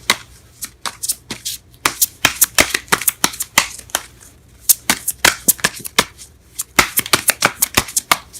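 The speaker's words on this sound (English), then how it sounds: "I am drawing cards everywhere." Tarot cards are shuffled and drawn in rapid, crisp riffling bursts, loud and close, with short pauses between runs and no talking.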